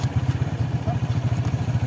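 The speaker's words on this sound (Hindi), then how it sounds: "अभी तुम इसको चला रहे हैं अभी मोटरसाइकिल।" Motorcycle engine chugging close by in a fast, regular pulsing rhythm as it is ridden, loud and steady for the whole moment.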